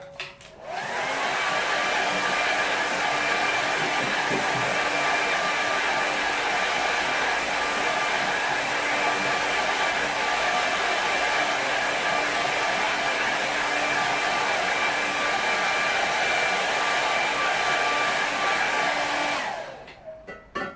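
A hair dryer blows steadily on a watercolour painting, a loud continuous whooshing roar with a constant whine that runs uninterrupted for nearly twenty seconds before cutting off, with no voices.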